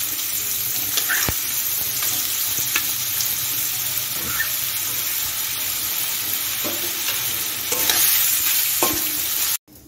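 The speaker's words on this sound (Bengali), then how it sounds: "কেটে রাখা আলুটা ভেজে নেব" Cut potatoes fry in two tablespoons of hot white oil in a wok, giving a steady close sizzle with occasional sharp stirring scrapes and clinks. The sizzle swells near the end and then cuts off abruptly.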